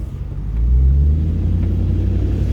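A 1993 Range Rover Classic with the 3.9 engine and automatic gearbox idles steadily close by, a deep low rumble that swells slightly after half a second and then holds even, with no talk.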